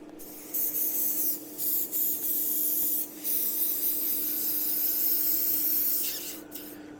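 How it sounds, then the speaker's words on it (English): Airbrush cleaner is blown through an airbrush in a run of bright hissing sprays, several short bursts with brief gaps between them, then a longer sustained blast that tapers off near the end, close and fairly loud. "bit of airbrush cleaner through there. We'll give it a blow through."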